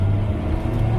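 A Mini Cooper 1275 with automatic transmission changing down, giving a brief low engine rumble and hum at steady pitch, heard from inside the car.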